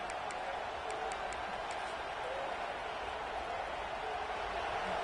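Stadium crowd noise from a college football video game, Kansas State at Florida State, a broad steady roar holding at the same level throughout with faint whistle-like tones at the start.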